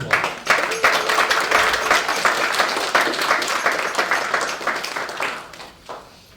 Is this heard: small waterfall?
no